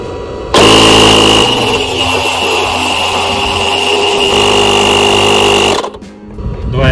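Built-in air compressor of a UTRAI Jstar 5 jump starter pumping a tyre, starting abruptly into a loud, steady buzzing drone with a high whine, running for about five seconds before cutting off.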